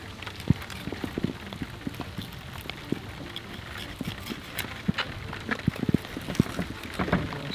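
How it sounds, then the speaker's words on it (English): Rain falls on a small fishing skiff offshore, scattered drops tapping irregularly on hard surfaces over a soft steady patter. "It's raining on me."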